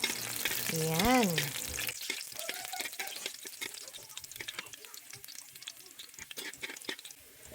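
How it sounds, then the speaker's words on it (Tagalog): Garlic sautéing in hot oil for adobong sitaw, a dense crackling sizzle that runs steadily after a brief spoken voice at the start, with faint stirring clicks throughout. "Magpainit po ng mantika at ilagay ang bawang."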